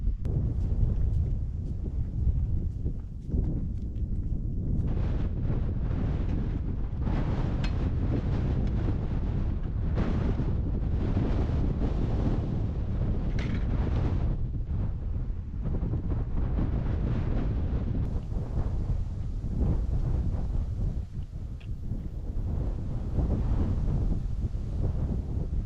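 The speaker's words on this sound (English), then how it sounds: "Pretty windy" Strong wind roars steadily and continuously, buffeting the microphone with a heavy low rumble throughout.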